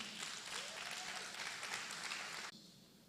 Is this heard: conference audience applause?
yes